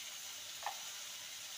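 Pointed gourd (potol) fries in a pan over low to medium heat, giving a steady, faint sizzling hiss with one brief soft pop and no talking.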